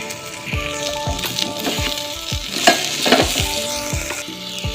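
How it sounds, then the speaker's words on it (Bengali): Taro frying in a pan as salt and turmeric powder go in, a loud sizzle with a regular run of spatula scrapes and knocks against the pan, close by and with no talking. "এবার দিয়ে দেবো পরিমাণ মতো লবণ আর হলুদ গুঁড়ো দিয়ে নাড়িয়ে নেব।"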